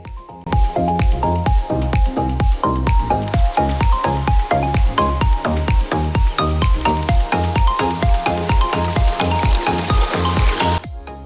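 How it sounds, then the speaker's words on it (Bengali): Small gram flour fritters (bora) frying in a little oil, a loud steady sizzle with regular bubbling pops throughout, close up. "ছোট ছোট সাইজে বড়াগুলোকে ভেজে নিচ্ছি।"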